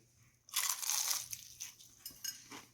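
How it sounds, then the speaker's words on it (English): A loud, crisp crunch of a bite into fried chicken, followed by a few softer crunchy chews, close up with no talking. "You can almost get a little bit of sound of the crunch, maybe."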